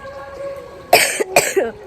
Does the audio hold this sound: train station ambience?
no